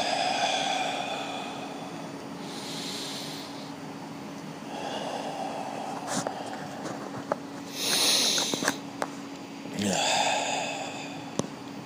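A person breathes heavily and deliberately, in and out, with several audible breaths and gasps, some sharper bursts near the middle and end, close up over a steady low hum.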